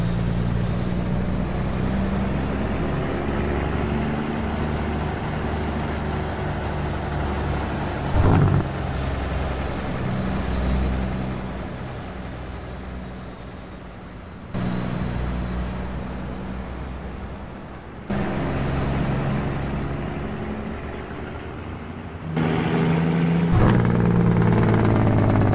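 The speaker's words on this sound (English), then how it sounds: "I'm really liking the sound of that Jake brake." A Kenworth K200 truck in American Truck Simulator rumbles with a low engine drone and Jake brake, with shifting engine tones, a whining high pitch and sudden level jumps, heard alone without talk.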